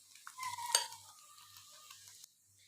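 Potatoes, peppers and luncheon meat are stirred in a frying pan, with a soft sizzle, a sharp utensil scrape near the start and quieter scraping strokes afterward, close and fairly faint.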